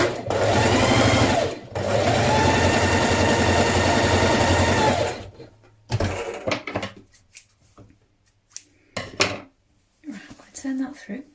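A sewing machine stitches a fabric strip for a recycled-material Christmas wreath, running in a close, steady whirring burst, stopping briefly, then running again for about three seconds before fabric handling clatter and a voice follow.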